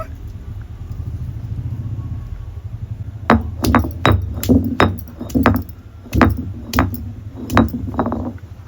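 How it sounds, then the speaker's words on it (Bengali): Garlic cloves are crushed by a series of sharp knocks and clinks. They come in an uneven rhythm after a few seconds of low steady background hum, close by. "থেতো করে নিয়েছি রসুনটা একটু থেতো করে নিলে"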